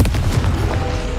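A Confringo fire-blast spell explodes in Hogwarts Legacy, a short burst of deep, rumbling booms that fills the whole moment at steady loudness.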